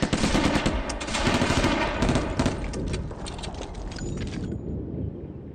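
Rapid bursts of gunfire from the wargame Steel Panthers: World at War, a dense crackling barrage of shots that runs steadily and loud, then thins and fades toward the end.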